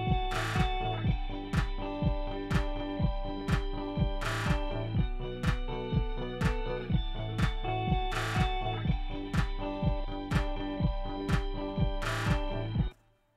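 A rock mix of drums, bass and two guitars pumps a steady, driving beat with evenly spaced hits and sustained distorted guitar chords, dense and loud throughout, with no voice.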